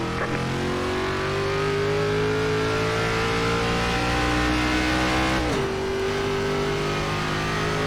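A race car in an ARCA racing game at Chicagoland roars steadily under full throttle, its engine tone climbing through a long pull before a quick upshift dip, loud and continuous with no voices.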